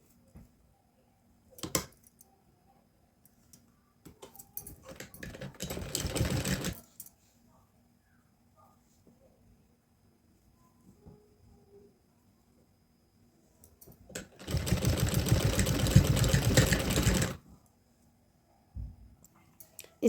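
Sewing machine stitching a fold in a crochet dress for a Laddu Gopal idol, running in two bursts of a few seconds each with quiet pauses and small clicks between them.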